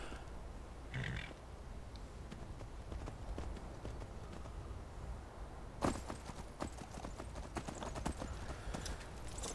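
Horse hooves clip-clop steadily in the Skyrim video game, a rhythmic train of moderately close hoofbeats over a continuous ambient bed, with a louder burst of clatter partway through.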